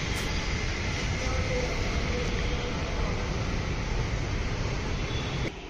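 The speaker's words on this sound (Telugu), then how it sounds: "ట్రైన్ వచ్చేసింది." A Hyderabad Metro train pulls into a station at night, a steady loud broadband rumble and rush of wind holding for several seconds before dropping off at the end, with no talk over it.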